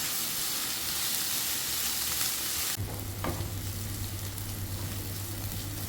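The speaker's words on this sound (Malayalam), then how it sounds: "ഇത് ഓയിലിലേക്ക് ഇട്ട് കൊടുക്കുക ഇനി നമുക്ക് സവാള വഴറ്റിയെടുക്കാം" Sliced onions sauté in hot oil with a continuous close sizzle and hiss. Partway through, a low steady hum joins in and a brief scrape of stirring cuts through.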